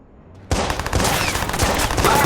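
Video game gunfire in Watch Dogs, a sudden dense burst of loud rapid shots that keeps going as sustained automatic fire.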